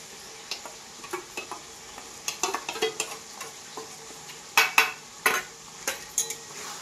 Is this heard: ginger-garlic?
yes